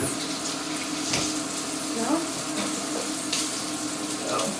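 Tap water runs steadily as hands are rinsed at a kitchen sink, a continuous splashing wash with small spikes of movement, while cod cooks in a pan nearby.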